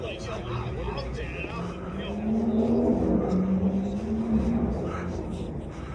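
A Porsche Speedster drives past nearby, its engine note rising to a peak and then fading, while people talk over it.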